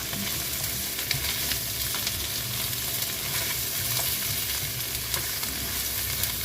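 Crab goes into a pan for a coconut milk seafood stew, producing a steady, close sizzle and frying crackle with occasional stirring clicks throughout, no voices.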